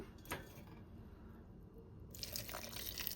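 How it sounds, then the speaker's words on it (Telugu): Water trickles and splashes into a mixer jar, with a brighter pouring burst near the end; dripping, liquid sounds, fairly close and moderately quiet. "ఇందులోకైతే కొద్దిగా వాటర్ అయితే యాడ్ చేస్తున్నాను"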